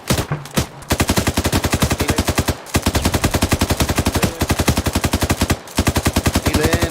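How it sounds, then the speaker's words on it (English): Sustained automatic gunfire from an ArmA 3 British milsim firefight rattles in long rapid bursts, loud and close, broken by a few brief pauses with no talk over it. "Oh, there's contact fire"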